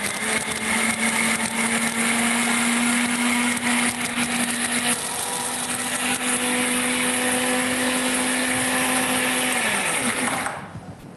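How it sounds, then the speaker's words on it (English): A blender whirs loudly and steadily for about ten seconds, blending macadamia nuts and buttermilk into a dip, its motor pitch shifting partway through before winding down and stopping at the end. "And we'll just blend that up."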